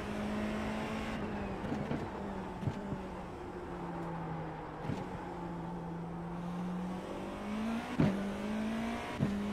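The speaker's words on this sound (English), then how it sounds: "Here with the new Porsche GTP car at Daytona. Sounds pretty cool already." A Porsche GTP race car engine in the iRacing sim at Daytona hums steadily at moderate level, with small shifts in pitch and brief bumps, a synthetic engine tone.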